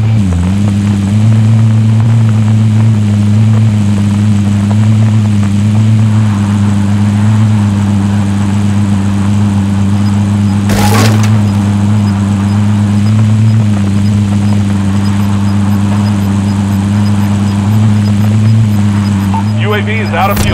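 A vehicle engine in Call of Duty Warzone Pacific drones steadily as it drives, a loud constant low hum with a brief burst of noise near the middle.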